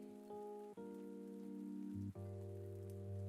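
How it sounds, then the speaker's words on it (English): Rain patters steadily in the farming game Pumpkin Days, a soft continuous hiss beneath sustained, layered music tones that shift chords twice. "Needed a rainy day."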